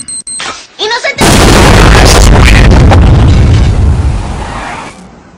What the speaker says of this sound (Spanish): Parece que hubo una explosión en la casa de los Simpson